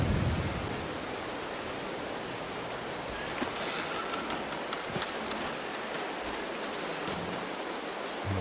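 Steady rain hisses throughout a thunderstorm on a Polish farm in the video game Farming Simulator 22, a broadband wash with a few faint rumbles and crackles, no voices.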